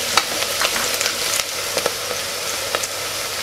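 Green chillies hitting hot oil in a pan with lightly browned onions while cooking a vegetable biryani: a steady, loud frying sizzle with small crackles and pops throughout, with no talk.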